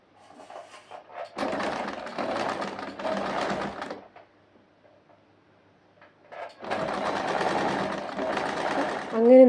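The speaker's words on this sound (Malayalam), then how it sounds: "അങ്ങനെ നമ്മൾ ഒരു സ്റ്റിച്ച് കൊടുത്തിട്ടുണ്ട്." A sewing machine stitches a shoulder seam on a garment with a canvas neck, running in two steady bursts with a quiet pause between them, close and fairly loud, with some faint background voice.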